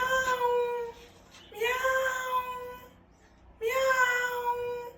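A person voices three long, drawn-out cat meows one after another, with short gaps of quiet between them. The imitation sounds whiny and rising, close and clear.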